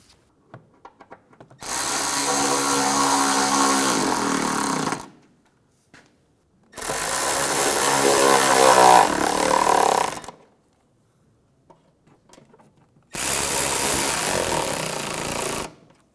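A power tool snugs down bolts on the headlight washer pump of a 2009-2013 BMW 328i xDrive, in three loud, sustained bursts of several seconds each. The bursts are separated by quiet pauses with faint handling clicks.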